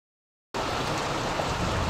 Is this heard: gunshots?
no